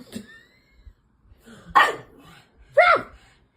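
A dog gives a few sharp barks and yips at close range, spaced apart with quiet gaps between them, with a person speaking softly in the background.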